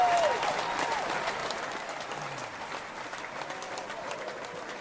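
An audience claps by hand in a full, steady round of applause with crowd murmur, loud at first and easing slightly as it continues.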